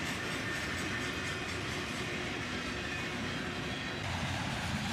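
A CSX freight train with boxcars and lumber cars rolls past up close, its wheels making a steady, loud rumble and rattle that fills the whole stretch with no talking.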